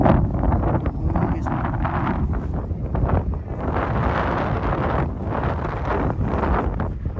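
Strong wind buffets the microphone at a campsite in Mabini, Bohol, in a continuous rough roar, with faint voices and movement beneath it.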